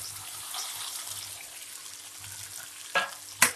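Grated corn frying in oil in a pan while being stirred continuously, a soft steady sizzle close by with a couple of sharp scraping clatters near the end.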